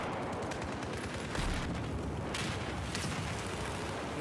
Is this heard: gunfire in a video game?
yes